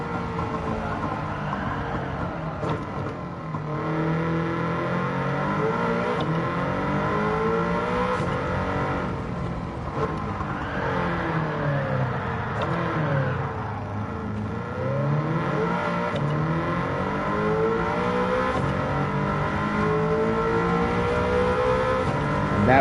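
An engine-swapped Toyota MR2 races in Gran Turismo 7, its engine revving up and down through gear changes and corners, with rising and falling whine sustained loudly throughout, no voices.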